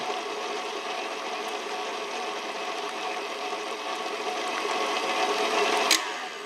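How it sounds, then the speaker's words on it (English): An electric mixer runs on low, blending powdered sugar into frosting for dark chocolate mascarpone cupcakes; the motor whirs continuously and evenly, growing a little louder near the end, with no talking. "Now we're just going to turn this on low till we get that powdered sugar mixed in."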